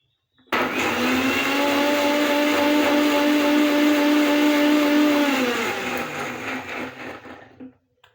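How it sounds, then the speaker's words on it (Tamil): A mixer grinder grinds amla (nelikkai) for juice, starting abruptly into a loud, steady high-pitched whirring motor whine that holds for about five seconds, then drops in pitch and winds down unevenly before stopping, with no talk. "நல்லா அரைச்சிட்டு வந்துடலாம்."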